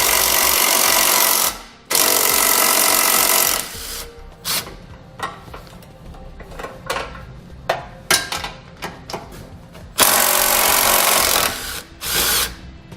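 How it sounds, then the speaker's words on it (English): Four bolts per side holding the crossbeam of a 2019 Subaru Outback Wagon are backed out with a 14mm socket, heard as loud powered tool bursts in several runs, with clattering and short spins between them. "There's 4 bolts on each side we're going to take off using a 14mm socket."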